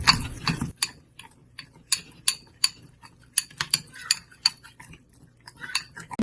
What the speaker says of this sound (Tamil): போட்டு இதை மிக்ஸ் பண்ண போறோம்.